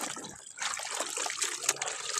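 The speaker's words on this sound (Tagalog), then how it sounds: "Diretso ang tubig." Water runs steadily in a continuous trickling, splashing stream close by during laundry work, with no talk over it.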